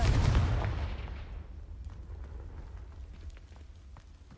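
Confringo fire spell cast in the video game Hogwarts Legacy: a loud blast at the start that tails off into a long, crackling rumble with scattered small pops.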